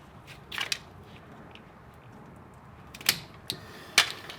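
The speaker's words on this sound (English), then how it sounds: "I'm cutting this connector off" An electrical wire connector on a Jeep Rubicon being snipped off with a cutting tool, with a few sharp, short clicks and snaps spaced apart against a quiet background.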